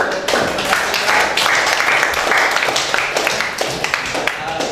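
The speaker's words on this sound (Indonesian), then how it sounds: "Boleh diberikan tepuk tangan untuk" A class applauds during a painting theory lesson, a dense wash of clapping from many hands that rises and settles over several seconds, with scattered voices mixed in.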